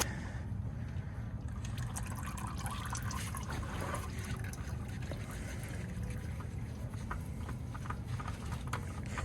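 A steady stream of engine oil pouring and trickling from a 2015 Nissan Altima 2.5L into a catch pan, continuous and fairly faint, with a low hum underneath and no talking.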